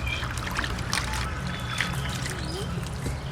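Water trickles and splashes as koi fish are rinsed outdoors, a steady close dribble with occasional louder pours and handling noises, while a voice murmurs faintly in the background.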